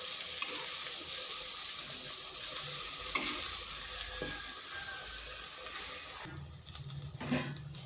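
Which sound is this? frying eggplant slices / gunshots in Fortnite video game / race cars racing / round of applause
frying eggplant slices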